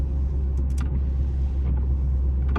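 C4 Corvette ZR-1 cruising down a road past other cars, its steady low engine rumble and road roar continuous and close throughout, with a couple of brief whooshes from passing vehicles.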